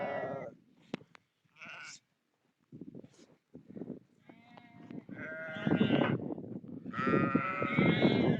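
Sheep bleat loudly and repeatedly while being sheared by hand on a shearing day in the mountains of Tajikistan, with several overlapping calls near and far and handling noises between them.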